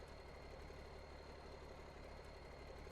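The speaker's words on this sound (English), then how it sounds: "kind of a diesel engine." Diesel truck engine idling in the Spintires off-road video game, a steady, even rumble with a faint knocking texture, very quiet throughout.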